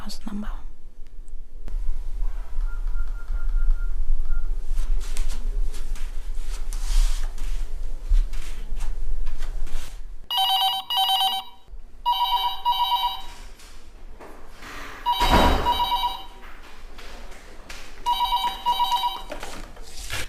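A house telephone rings in a Nollywood drama scene, its repeated electronic ring bursts arriving in a steady rhythm after some clicking of dialing, with background room noise and low ambient sound between rings.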